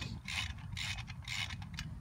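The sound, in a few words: ratchet tightening bolts on Isuzu Amigo brake rotor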